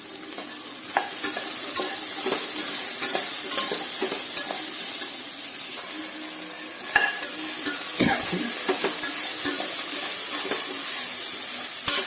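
Vegetables with turmeric powder sauté in a pan for a vegetable stew, with a loud continuous sizzle and repeated spoon scrapes and stirring clacks close by, no talking.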